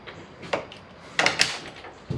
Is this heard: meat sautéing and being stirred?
no